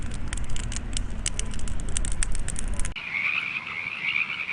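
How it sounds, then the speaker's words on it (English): Frogs croak in a steady nighttime chorus on a Morro Bay trip, a dense continuous calling heard up close with no talk over it. "I want you to listen to my frogs"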